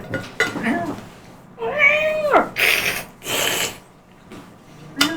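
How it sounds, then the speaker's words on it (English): A mad or scared cat screaming: a drawn-out, wavering yowl in the middle, surrounded by harsh hissing bursts and short cries, fairly close. "just the sound a cat will make on its own when it's mad or scared"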